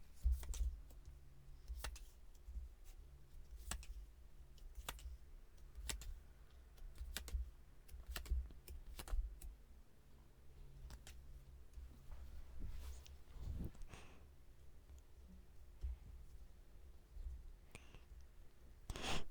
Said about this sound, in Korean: 오늘 마음 편하게 심호흡하시는 동안 제가 여러분들의 행운의 카드 뽑아볼게요.